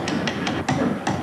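High school students in a toy-making class hammer wooden toy blocks, giving about five sharp, irregular knocks over a busy workshop background, close and fairly loud.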